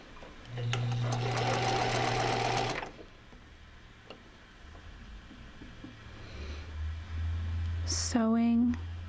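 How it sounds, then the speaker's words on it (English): A sewing machine whirs in a short burst of stitching for about two seconds, followed by quiet handling noises. A brief voice is heard near the end. "Sewing."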